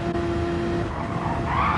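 A Porsche race car roars through a Le Mans endurance event in a racing video game, its engine droning loud and constant with tire scrub and skidding noise, as if it were running close behind another car.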